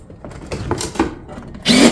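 A power fastener drives fasteners through Pacific roof tiles, heard as a few close, soft knocks and clatters followed by one short, loud burst of driving noise at the end.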